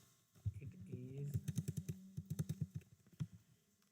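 Rapid clicks of keys typed on a computer keyboard while writing a code comment, a quick irregular burst close by, partly overlapping a man's speech.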